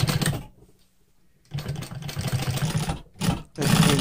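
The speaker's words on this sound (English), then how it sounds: "I'm stitching 1/16 inch from the edge." A sewing machine stitching a facing onto the right side pocket bag of a pair of jeans, 1/16 inch from the edge: short bursts of close mechanical whirring separated by brief pauses.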